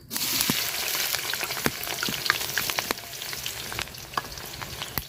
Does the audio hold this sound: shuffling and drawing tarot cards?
no